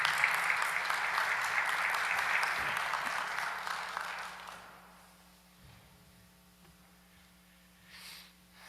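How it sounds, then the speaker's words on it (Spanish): An audience at the opening panel of an education-for-peace summit applauds warmly for several seconds before the clapping fades out into a quiet room with faint hum. "Un fuerte aplauso."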